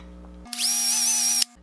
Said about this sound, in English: You don't want to be drilling these rivets